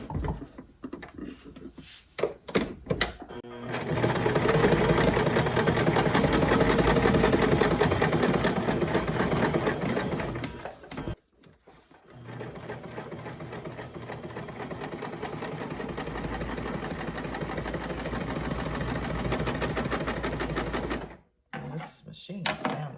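Sewing machine stitching a primitive cloth doll, running in two long bursts of steady rapid clatter and motor hum separated by brief pauses, close by, with a few handling clicks at the start.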